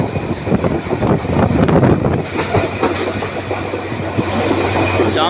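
Hazara Express passenger train rolling through Feroza railway station, heard from on board: loud continuous rumble with rhythmic clickety-clack of wheels over rail joints, occasional squeals and wind noise, no talking.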